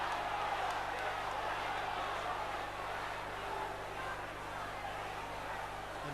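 A rugby league crowd at the 1982–83 Wigan versus Leeds John Player Trophy final roars its disapproval, a dense, steady wash of jeering that holds at an even level from start to finish.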